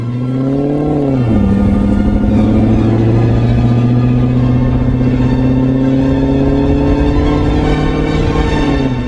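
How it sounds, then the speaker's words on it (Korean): A loud Maserati Quattroporte Sport GTS exhaust drones close by. It drops sharply in pitch early on, then rises gradually as the car accelerates, with a rough, throaty roar. "가장 강력하고 폭발적인 배기음을 내는 꽈트로포르테 GTS는"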